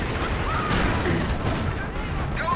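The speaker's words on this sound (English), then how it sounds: "Short barrel Panzer IV firing away" Gunfire and explosions from a short-barrel Panzer IV tank and other units in the real-time strategy game Company of Heroes, a dense rumbling barrage of booms and shots under a commentator's voice.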